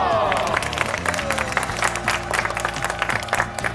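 Studio audience applause on a Korean variety talk show, steady dense clapping with some cheering, set under a loud music bed throughout.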